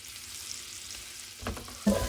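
Garlic shrimp sautéing in melted butter in a pan gives a steady, close sizzle throughout, with a couple of sharp utensil knocks and scrapes near the end.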